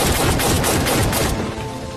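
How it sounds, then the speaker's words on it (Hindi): A loud burst of rapid gunfire in a film, a dense crackling volley of shots lasting over a second before fading into a lingering rumble, with no speech. "गोली किसी और ने नहीं बल्कि चार्ली ने चलाई थी"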